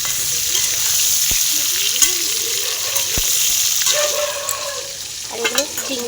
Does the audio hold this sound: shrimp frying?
yes